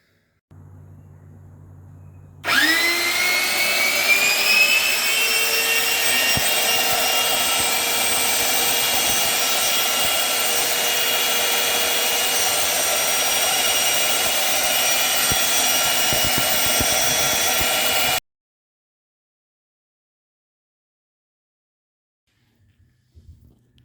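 An electric cooling fan on a Honda Civic radiator, fitted with a small fan, spins up abruptly and holds a steady, loud whirring whine with a rising tone for about fifteen seconds, then cuts off into silence.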